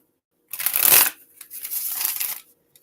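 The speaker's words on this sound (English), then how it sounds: "One more shuffle." A deck of tarot cards being shuffled in two quick riffling bursts, the first louder and denser, the second a slightly softer run of papery flutters, heard close up with no talking.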